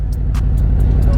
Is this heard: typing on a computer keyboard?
no